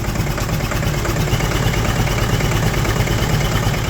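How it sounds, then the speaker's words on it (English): A Massey Ferguson 461 tractor engine idling up close with the turbo steaming, a loud, steady low diesel rumble with constant vibration and no breaks. "No, that's the turbo steaming."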